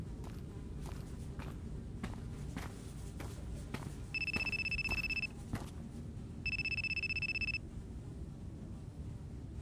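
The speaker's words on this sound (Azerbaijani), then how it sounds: "Bu kimin telefonu? Bu kimdir?" A telephone rings in the horror video game Akai Onna, sounding in two electronic bursts of about a second each, with steady footsteps walking through the whole scene.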